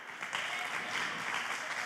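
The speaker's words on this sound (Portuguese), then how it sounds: "Agora merece uma salva de palmas" Brief burst of congregation applause in a church service, many hands clapping in a steady, dense patter at moderate distance.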